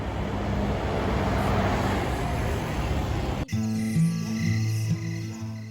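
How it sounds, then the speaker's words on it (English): Steady broadband road traffic along the Promenade in Nice, a continuous wash of passing cars, then an abrupt cut to a different, more tonal hum with faint engine drone. "we can still hear the traffic"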